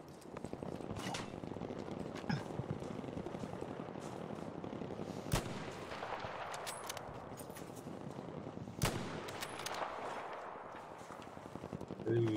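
Battlefield V gunfire, a few sharp isolated shots ringing out above a busy, rustling background of movement and distant battle noise, spaced several seconds apart.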